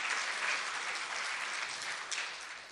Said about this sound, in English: Please give Mike Kaufman a round of applause.